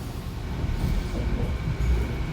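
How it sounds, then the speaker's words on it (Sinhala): A train rumbles at a station near an airport late at night, its steady low roar and rolling wheels filling the space with no voices. "මගේ කෝච්චිය ආවා."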